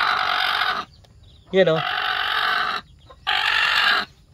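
Native chickens cluck and chirp in a short burst between spans of a steady loud hum, with newly hatched chicks nearby; someone talks briefly.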